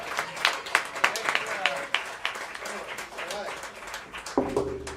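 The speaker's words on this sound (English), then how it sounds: "Can we please give a round of applause to this cat?" An audience at a collegiate jazz combo competition gives a jazz pianist a burst of applause and cheers, which fades under an announcer's voice.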